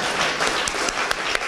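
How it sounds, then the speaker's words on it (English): An audience at an award event claps for a short stretch. The dense applause is moderately loud and steady, with a few sharper individual claps. "we can clap again for Oscar."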